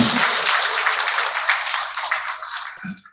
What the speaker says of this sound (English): Merci Joël, qu'on applaudit encore très fort.